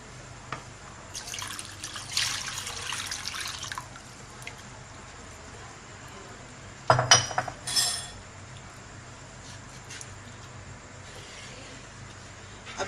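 A cornflour halwa mixture is stirred in a pan over medium heat: a soft, wet swishing runs throughout, with a brief burst of clinking from the utensil partway through and no voices.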